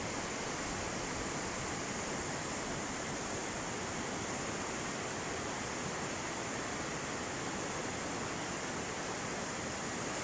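The Swat River in Kalam rushing past close by, a loud, dense, unbroken roar of flowing water with no other sound standing out.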